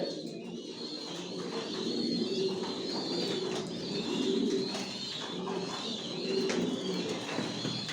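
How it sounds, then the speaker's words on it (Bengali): Racer pigeons coo steadily inside a loft, a soft continuous chorus of rolling coos with occasional chirps and faint rustling throughout. "এখানে যে কবুতরগুলো দেখতেছেন"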